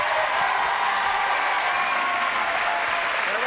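A French television studio audience applauds steadily, a thick, even roar of clapping with a faint crowd murmur, sustained at constant loudness throughout.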